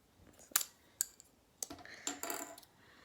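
Scissors snip through sisterlocks hair in a few sharp, close cuts spaced irregularly over a quiet background, the last ones coming in a quicker cluster.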